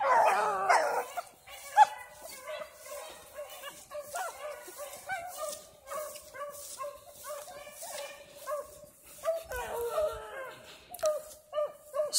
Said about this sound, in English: That's Night Train, 8-month-old puppy.